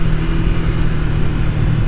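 A 1989 Suzuki GS500 cafe racer project motorcycle running, a loud steady mid-pitched engine drone with a constant low rumble, close and alone, no voices.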